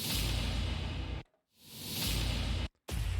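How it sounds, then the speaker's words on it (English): Two cinematic whoosh hits from the SampleTraxx BRAAAMs Volume 1 library, each a loud, wide rushing swell that cuts off abruptly into a brief silence before the next builds. "these whoosh hits are awesome"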